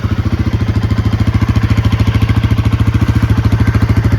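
A brand-new Royal Enfield Himalayan 450 warms up on a cold morning near Greater Noida, its engine idling close by with a loud, steady, rapid thumping beat.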